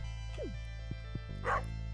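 A dog in the Stardew Valley video game gives a couple of short barks and yips over a constant game music and ambient hum, at moderate level with no talk.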